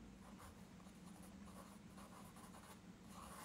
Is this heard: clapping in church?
no